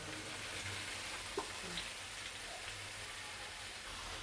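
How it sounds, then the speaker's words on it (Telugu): Chopped onions and green chillies fry softly in a pan for a chicken curry, giving a faint, steady sizzle and crackle with a couple of light stirring clicks, and no speech. "ఒక 2 minutes ఉల్లిపాయలను ఇలాగే మగ్గనిద్దాం"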